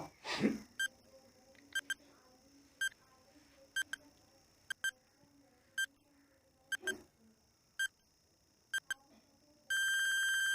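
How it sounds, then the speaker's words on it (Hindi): A countdown timer in a mock-test quiz ticks off ten seconds with faint, evenly spaced short beeps, about one per second, ending in a sustained tone; very quiet, with no talking. "आपको 10 सेकंड का टाइमर स्टार्ट होता है नाउ"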